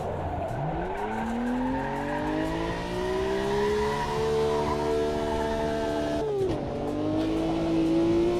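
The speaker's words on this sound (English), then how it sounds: "Warming up my tyres." A race car in a sim racing game warms up its tyres, its engine revving up in a rising whine and holding a loud, steady pitch. A sharp drop and re-climb comes near the end, with faint tyre squeal and no talking.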